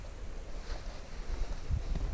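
Cool wind gusting steadily outdoors beside the water during a winter burbot fishing trip, a low rumbling wash of air buffeting the microphone with no voices.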